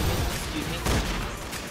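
Rapid bursts of M16 gunfire rattle through the Roblox game Zombie Rush, dense and continuous against a busy game soundscape.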